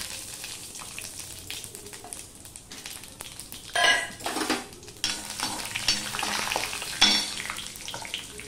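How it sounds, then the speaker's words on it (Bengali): Cumin seeds and cashew nuts frying in hot oil after whole garam masala, a steady sizzle with bursts of louder crackling and spatter, plus occasional stirring scrapes close by. "এবার আমি এই 1 চামচের মতন জিরে দিয়ে দিলাম। জিরেটা হয়ে গেলে কটা কাজু বাদাম দিয়ে দিলাম।"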